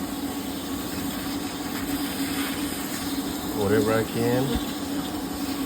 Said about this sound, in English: and vacuum as many as we can